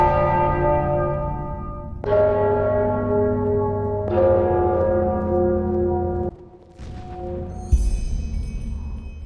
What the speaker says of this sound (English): I'm sure the bells have something to do with the riddle.